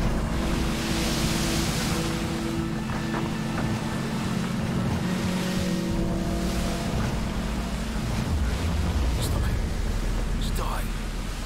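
A motorboat engine drones steadily on open water in the Battlefield 2 video game, with waves and wind around it and a few faint clicks near the end, continuous and moderately loud.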